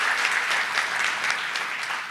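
Dense, steady clapping from a luncheon audience, close and even throughout a short burst with no voices.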